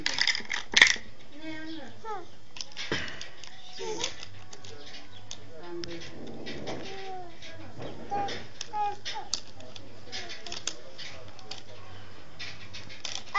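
Small LEGO bricks clatter as they are tipped out, with a bright rattling burst near the start and scattered clicks afterward, while a child and an adult talk over the sound.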